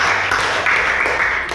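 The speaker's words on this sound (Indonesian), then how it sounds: "kita beri tepuk tangan lagi" Brief burst of students clapping in a classroom after a group discussion, a continuous patter with no break.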